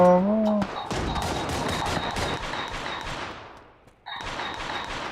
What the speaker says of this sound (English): And somebody else is shooting at us too.